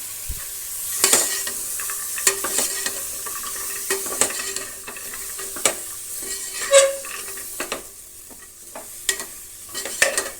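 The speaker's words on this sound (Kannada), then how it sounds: "ಮೂರು ಆಲೂಗಡ್ಡೆ ಮೂರು ಕ್ಯಾರೆಟು ಒಂದು ಹಿಡಿಯಷ್ಟು ನೆನೆಸಿರುವಂಥ ಬಟಾಣಿ ಹಾಕ್ತಾಯಿದ್ದೀನಿ" Potatoes, carrots and soaked peas sizzle in hot oil in a pan, with steady frying hiss and frequent scraping, clattering stirs of a spoon against the metal pan, close and continuous.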